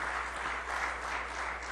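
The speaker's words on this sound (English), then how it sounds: "Let's have a round of applause for our panelists." An audience claps for a panel of speakers at an ethics discussion, a brief, even wash of moderate applause with a faint low hum beneath it.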